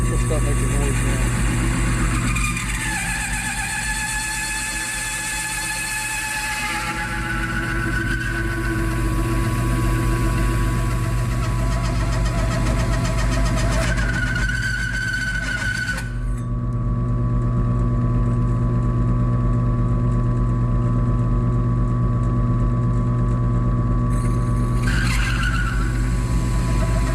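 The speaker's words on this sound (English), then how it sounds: "I'm running this at the slowest RPM this mill will go" Milling machine running at its slowest speed, about 140 RPM, while cutting: a continuous loud mechanical drone with steady hum tones and harsh squealing, screeching cutting noise that shifts in pitch and briefly drops away partway through.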